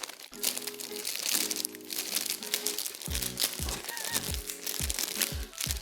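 A package of crispy Canton flour noodles is torn open and handled, giving loud close crinkling and rustling of plastic wrap with sharp crackles, steady throughout.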